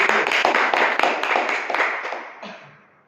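A crowd applauds with a burst of dense clapping that gradually fades away over a few seconds.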